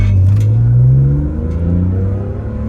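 A BMW E46 M3 sliding sideways on a wet street, its engine roaring loud and close as the revs climb and sweep upward, then ease off and build again.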